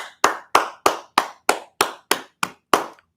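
Ten sharp hand claps in a steady, even rhythm, loud and close, with no talking.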